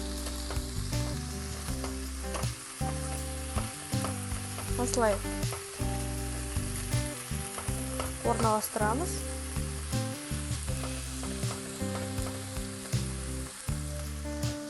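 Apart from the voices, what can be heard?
boiled broccoli frying in butter in a pan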